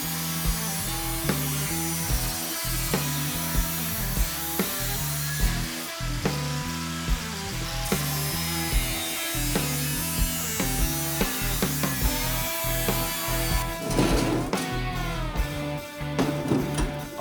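Car body metal being cut in a custom garage, a continuous loud grinding and rasping power tool sound with rhythmic surges and brief variations throughout.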